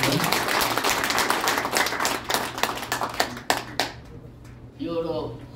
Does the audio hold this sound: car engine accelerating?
no